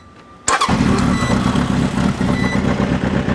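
A Honda CB DOHC motorcycle engine cranks and catches after a brief quiet moment, then settles into a loud, steady, close idle with an even mechanical rumble.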